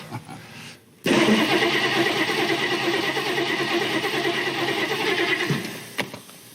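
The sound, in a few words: car engine starting and running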